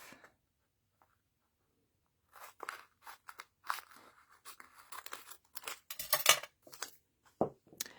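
Excess cardstock being cut off with scissors, a series of close, crisp snipping and crunching sounds after a short quiet pause.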